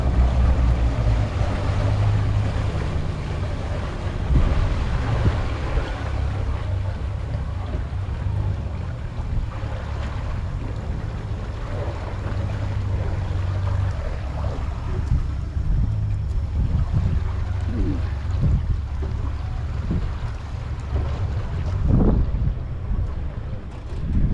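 A Hinckley 35S sport boat's motor drones steadily at close range under gusty wind buffeting as it maneuvers to dock at a finger pier, with occasional knocks and splashes near the end.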